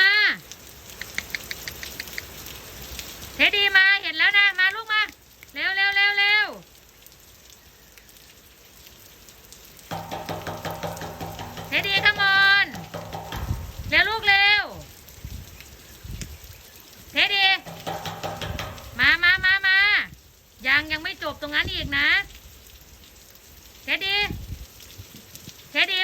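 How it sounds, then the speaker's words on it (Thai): Steady rain hisses in the background while repeated bleating animal calls and shouting voices rise and fall over it. "ฝนตก"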